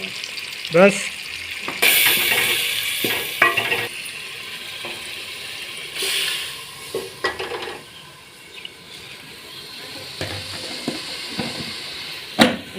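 Red chilies, turmeric and salt go into a sizzling pot and are stirred, with bursts of frying hiss, metal scrapes and clinks coming and going over about thirteen seconds, close and fairly loud; a voice briefly speaks.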